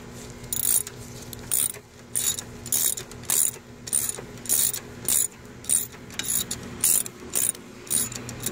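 Hand ratchet on a long extension snugging up a transmission bolt on a 2012 Nissan Altima 2.5L, a steady run of close, crisp clicking bursts with brief pauses between strokes and no talk.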